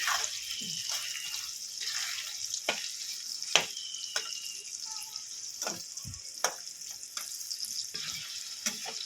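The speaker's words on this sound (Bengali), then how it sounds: "আলুগুলো ভেজে নেব আলুটা ভেজে নেব লাল করে" Potato pieces fry in hot oil in a home kitchen, a steady bright sizzle broken by repeated clinks and scrapes of stirring, with no talk.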